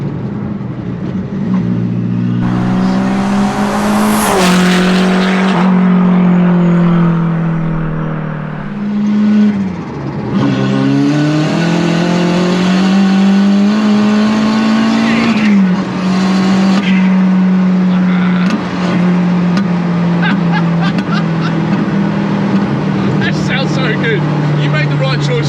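A turbocharged 1.8 20V engine in a Mk1 VW Caddy pickup with a bed-mounted exhaust builds boost and accelerates: a loud, close, continuous engine drone that climbs in pitch through several gear pulls.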